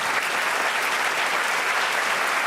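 Dense, steady applause from a crowd fills the whole stretch at an even level, with no voices on top.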